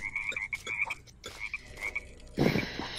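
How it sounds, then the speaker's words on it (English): Frogs croak in the LEGO Worlds game, a run of rapid, chirpy repeated calls close by, followed by a louder burst of in-game noise near the end. "Some more frogs, I think."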